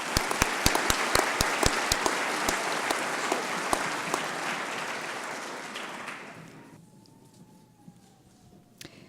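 An audience at a scholarship reception applauds a group of recipients, dense clapping that holds steady, then thins and fades away after about six seconds, leaving a few scattered claps in a quiet room.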